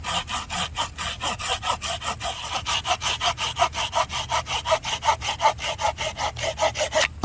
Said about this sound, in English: Allegedly this will give a rougher but quicker cut, and it is still a pull blade.